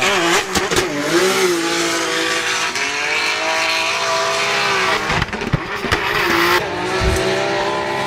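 A Nissan S15 drift car at a Drift France round at Val de Vienne revs hard and close, engine pitch climbing and falling through repeated throttle blips and shifts, with brief tyre and exhaust bursts.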